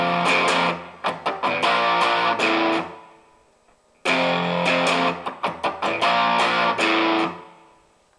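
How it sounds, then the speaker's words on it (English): Distorted electric guitar strums the bottom three strings open in a connecting chord from a song's riff, two loud bursts of repeated chugging strokes, each ringing out and decaying, with no talk. "we then strike the bottom 3 guitar strings completely open, which will sound slightly odd in isolation"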